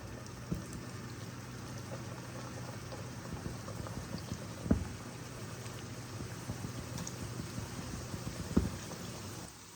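Snacks frying in oil on low heat, a quiet, steady soft bubbling hiss with a few small pops, heard alone and fairly close.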